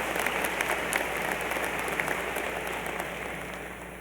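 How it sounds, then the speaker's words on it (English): Steady applause from a convocation audience of new students fills the hall, a dense even patter of many hands clapping at moderate level from start to finish, with no talk over it. "Give yourselves one of many deserved rounds of applause."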